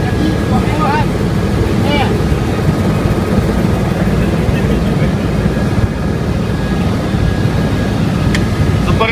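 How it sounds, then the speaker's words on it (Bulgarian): Helicopter taking off on a sightseeing flight over Iguazu, its rotor and engine roaring loud and steady from inside the cabin throughout, with faint voices underneath. "За първи път на хеликоптер. Ето ни, тръгваме. И вече сме във въздуха!"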